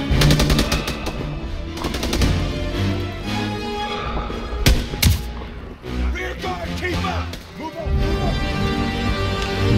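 Rapid machine-gun and rifle fire from the World War II shooter Call of Duty WW2 rattles in loud, dense bursts, with sharp single cracks and shouted voices mixed into the battle.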